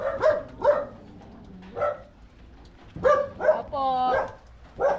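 A dog barks in a few sharp bursts, then gives a drawn-out whine or yelp, fairly close by, with people talking at intervals in the background.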